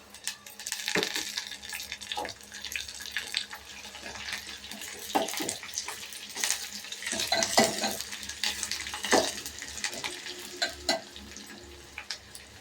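Curry leaves and browned onions sizzle in hot oil in a pan as they are stirred, with scraping and crackling that rises and falls at close range and no talking.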